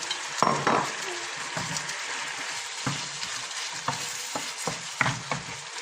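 Egg yolks tipped into a hot pan fry with a continuous sizzle, broken by scraping stirs and light utensil knocks against the pan, close by and without talk.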